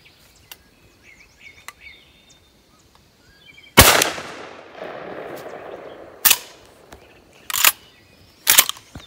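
A 20 gauge shotgun fires number 2 buckshot reloads outdoors at a range, giving four sharp loud blasts, the first followed by a lingering rumble, then three more spaced shots.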